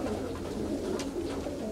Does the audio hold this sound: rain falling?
no